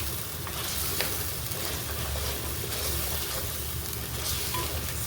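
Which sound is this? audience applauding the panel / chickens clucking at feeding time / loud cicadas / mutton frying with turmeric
mutton frying with turmeric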